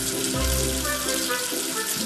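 Steady rushing water in a children's counting video game runs continuously, loud and close, like a tap rinsing soap off something, with a low thump near the start.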